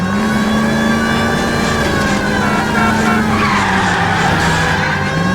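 A car in an L.A. Noire chase roars close and loud, the engine droning while tires squeal and skid through a turn.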